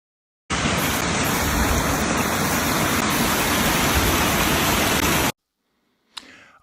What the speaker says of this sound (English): Listen to the tinkle tinkle of the beck, of the stream.